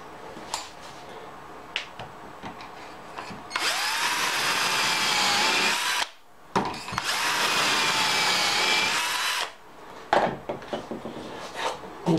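A power drill bores into a wooden workpiece clamped to a table, two sustained loud bursts of drilling of about two and a half seconds each, separated by a short pause and framed by quieter clicks and handling noises.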